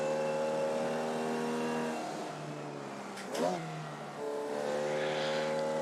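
A small 4-cylinder Formula Vee engine in the iRacing game holds a steady mid-pitched drone, drops briefly with a quick upshift and blip near the middle, then climbs back to a sustained rev, with no voices.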